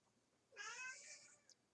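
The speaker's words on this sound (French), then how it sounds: "j'ai un chat qui pleure." A house cat gives one clear, drawn-out meow, plaintive and crying, fairly close but quiet indoors, with a faint brief sound just after.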